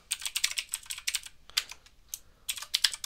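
Someone types on a computer keyboard in uneven bursts of quick, crisp keystrokes, close and fairly quiet, with short pauses between the runs.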